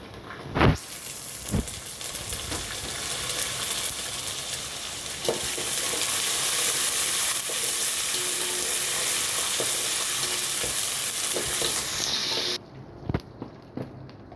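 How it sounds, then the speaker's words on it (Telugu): Green chillies and curry leaves fry in hot oil for a murmure snack, giving a continuous, close sizzle with occasional stirring knocks against the pan, steady throughout before cutting off near the end. "పొట్టిమిర్చి వేసుకుంటున్నాను. కరివేపాకు కూడా వేసుకుంటున్నాను."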